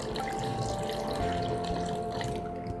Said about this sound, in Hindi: थोड़ा और पानी मिला के